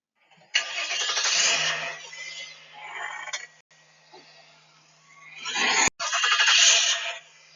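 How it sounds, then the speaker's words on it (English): A car's engine starts at the push of a button, a loud near burst of cranking and revving that cuts out and rises again in several harsh surges. "Push the button and start the car."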